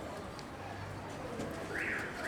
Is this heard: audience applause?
no